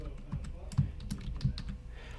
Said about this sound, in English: then type in a patient's name